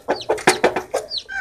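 A hen clucks in short, loud bursts, about six calls in quick succession, agitated and close by, with a brief squawk near the end.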